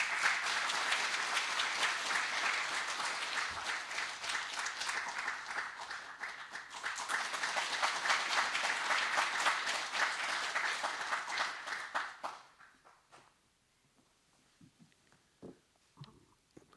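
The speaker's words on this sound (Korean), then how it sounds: "여러분, 이사장님을 박수로 맞이해 주십시오" Warm applause from an audience at an awards ceremony greets the chairman, a thick continuous clapping that holds for about twelve seconds, then drops off quickly, leaving a quiet room with scattered faint sounds.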